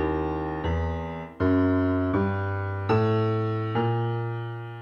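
A solo piano plays a walking bass line, single low notes sounding one after another with sliding half-step lead-ins between them.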